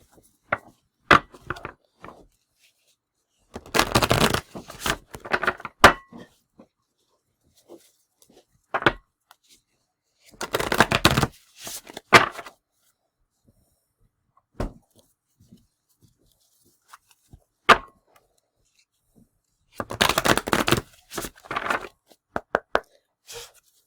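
Cards are shuffled for a card or rune reading in several short, papery, clattering bursts separated by quiet stretches, with a few soft taps in between.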